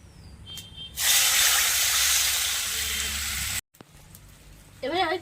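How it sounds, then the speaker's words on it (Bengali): Water poured into a hot pan while cooking fish curry sets off a loud, sustained hiss and sizzle lasting a few seconds that cuts off abruptly, followed by quieter kitchen sounds and a brief voice. "এবার এই জলটা দিয়ে দিচ্ছি।"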